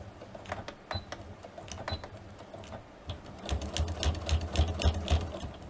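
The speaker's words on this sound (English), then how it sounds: "So I really want to get a nice thick stitch in it." A sewing machine runs a thick stitch on a Christmas stocking, starting with light intermittent ticks and then settling into a faster, rhythmic close-up whir of stitching, fairly quiet overall.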